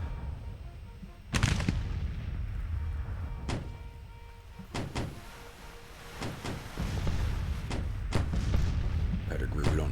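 One-pounder cannons fire in a strategy-game Civil War battle in Grand Tactician, giving scattered sharp bangs and booms at irregular intervals over a rumbling battlefield din, with a voice faintly beneath.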